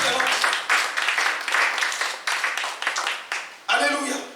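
Church congregation applauding during a sermon, a short burst of dense clapping in uneven waves, with a voice speaking over it near the end.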